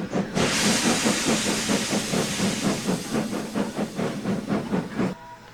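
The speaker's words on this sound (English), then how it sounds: "releasing steam" A steam engine vents a loud hiss of steam that rolls into rhythmic puffing chuffs as it pulls out of the sheds, then cuts off abruptly.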